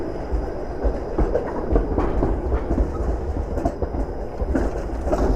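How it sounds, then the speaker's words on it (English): A Toronto streetcar rumbles along Church Street close by, a steady heavy rolling roar with faint rhythmic wheel clatter on the rails. "I'm going to get stuck behind the streetcar stopping again."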